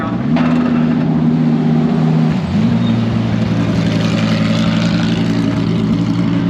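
Race cars at the Hockenheim circuit idle and creep up to the starting grid, a steady low engine drone with a brief dip partway through, close by and continuous.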